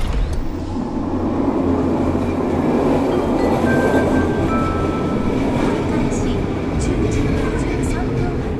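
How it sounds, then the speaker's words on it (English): Metro train ride with steady, loud rumbling rail noise and faint clatter throughout, continuous from start to finish; a voice is heard briefly over the train. "They arrive at the metro station and board the train."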